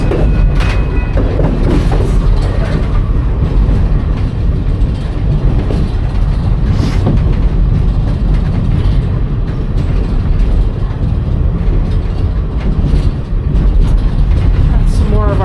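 Reading & Northern train rolling steadily over the tracks on the Mahanoy and Shamokin branch, a loud continuous rumble with clickety-clack wheel rhythm throughout.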